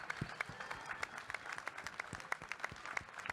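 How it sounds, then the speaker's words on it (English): Audience applause for the panelists at an MLB Clubhouse panel: steady, moderately faint clapping from many hands that runs through the whole stretch without talk. "Please give a warm round of applause for all of our panelists."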